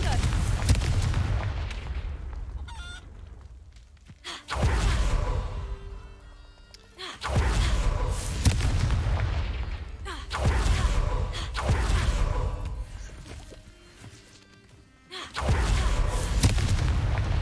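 Fiery Confringo spell explosions from the Hogwarts Legacy video game, a series of loud booming blasts with sharp onsets, each fading out before the next, spaced roughly every two to three seconds.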